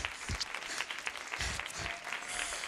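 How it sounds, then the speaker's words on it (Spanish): A television talk show studio audience applauds, giving a dense, continuous wash of clapping at moderate distance with no break across the whole stretch. "¡Gracias por esos aplausos tan ecuánimes y sinceros!"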